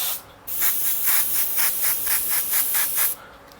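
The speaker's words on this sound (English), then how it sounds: "how about I rinse the airbrush out first?" An airbrush being rinsed out sprays in a strong, close hiss that starts after a brief pause and pulses in quick regular bursts for about two and a half seconds before stopping.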